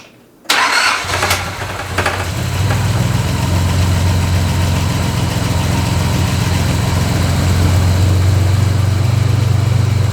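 A 1986 Nissan 300ZX engine cranks briefly, catches and settles into a loud, steady idle that continues alone to the end.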